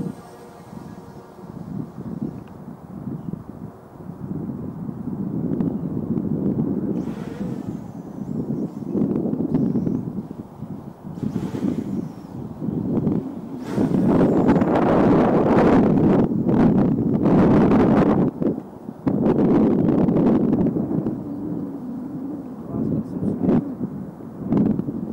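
An MJX Bugs 3 Mini drone flies at full throttle, its steady buzzing whir rising and falling close to the microphone, mixed with wind rumble and a few spoken words.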